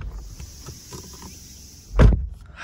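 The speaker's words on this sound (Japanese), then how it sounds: "ドア閉めた音はこんな感じ。" A 2021 Subaru Legacy Outback Limited door slams shut once, a solid nearby thunk standing out from quiet cabin background.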